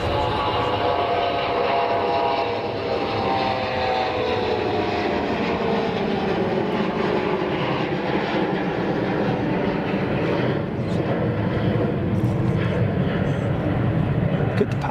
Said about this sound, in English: CRJ 1000 departing.